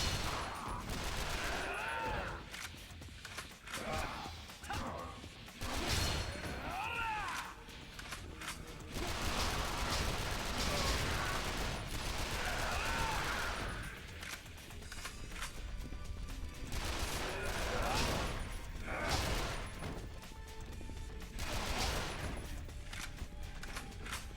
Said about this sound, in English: The machine gun in this game is pretty good, especially for running and gunning.